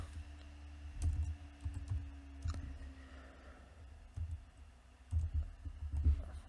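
Code being typed on a computer keyboard: irregular bursts of soft key clicks with short pauses between, close and fairly quiet.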